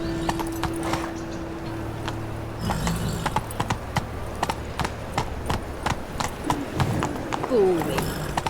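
A horse's hooves clip-clop in a brisk, steady rhythm as it is ridden in The Witcher 3, with a short whinny near the end and a voice speaking over the hoofbeats.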